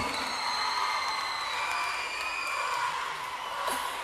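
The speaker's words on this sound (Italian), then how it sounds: "Applausi." Applause and some cheering from a concert crowd after a live song, a steady wash of clapping at moderate distance with no voices on top.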